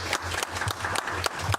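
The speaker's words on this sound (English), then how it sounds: "You gotta give our interns one more round of applause." An audience at a town council meeting applauds the interns, a steady crackle of many hands clapping indoors at moderate volume, with no talk over it.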